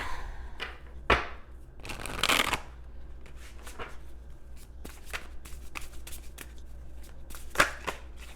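Oracle cards being shuffled by hand during a tarot reading make a series of close, crisp riffling bursts and soft slides with short pauses in between, heard without any talking.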